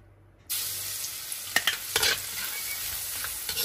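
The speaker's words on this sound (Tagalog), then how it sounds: "Pag mainit na yung mantika, lagyan na natin yung bawang." Garlic hits hot cooking oil with a sudden loud sizzle that continues steadily, with a few scraping stirs of a utensil in the pan partway through.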